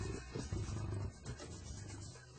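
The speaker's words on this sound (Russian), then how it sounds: "Это массивный американский лев." An American lion, a massive prehistoric big cat, roars in deep, rumbling bursts close by, with low growling pulses repeating across the clip and no talk.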